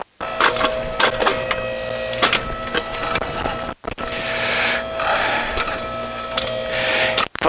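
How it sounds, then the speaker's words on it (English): An electric motor drives a 360-degree backhoe, giving a steady whirring mechanical hum with small ticks and rattles, broken by one brief pause midway before running on. "When you have an electric motor running it, you can hear all the little noises that it makes."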